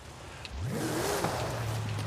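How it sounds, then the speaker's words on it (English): An engine in the Forza 5 racing game revs up and holds a loud, steady drone with rising and falling pitch for about two seconds, heard alone without talk. "please tell me if the car's going brrrum, it's a little loud"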